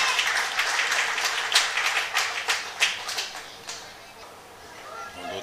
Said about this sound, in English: a steady round of applause